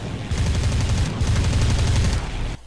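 Aircraft machine guns in a flight combat game tutorial fire in one sustained rapid burst, a loud, dense rattle of closely spaced shots lasting about two seconds before cutting off abruptly.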